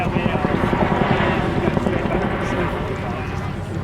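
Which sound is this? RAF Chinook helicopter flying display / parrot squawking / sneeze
RAF Chinook helicopter flying display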